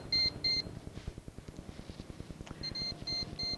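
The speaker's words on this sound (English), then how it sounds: "the door alarms will beep every 30 seconds" Short electronic beeps in quick pairs and triplets from a Fisher & Paykel refrigerator door alarm, a high tone repeating over a steady low hum and rhythmic mechanical thumping.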